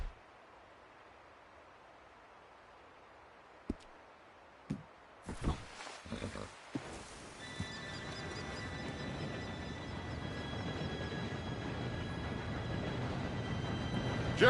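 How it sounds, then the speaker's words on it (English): A train approaches in the Red Dead Redemption video game: after quiet and a few sharp knocks, a rumbling roar builds steadily, growing louder and nearer toward the end. "Train should be here any minute now."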